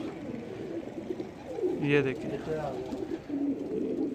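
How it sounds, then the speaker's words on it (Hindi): A female pigeon coos after landing at a rooftop loft, a short soft throaty burst mid-way, close by, under someone talking. "देखिए जी ये कबूतरी उड़ के आई है बैठी है"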